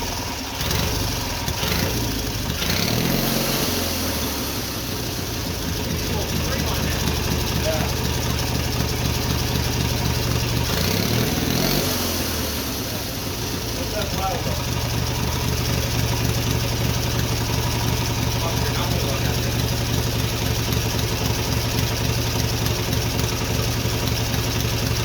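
A twin-cylinder Briggs engine on a mini bike idles steadily at close range, a low even chug with a brief blip partway through, while people talk nearby.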